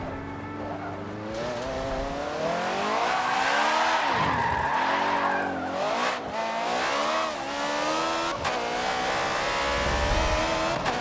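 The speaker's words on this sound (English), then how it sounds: "And now I can't even control the car." Race car engine in a drifting video game, revving with rising and falling pitch while tires squeal through a slide; loud, continuous and close, with no talk over it.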